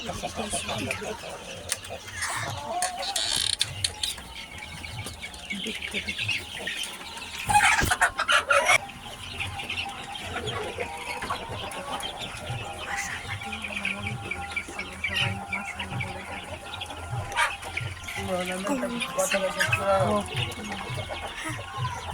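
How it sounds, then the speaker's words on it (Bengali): Hens cluck in short, repeated bursts throughout, with scattered farmyard bird calls and background noise, and a louder rustle partway through. "এই মুরগিগুলো কি কিউট"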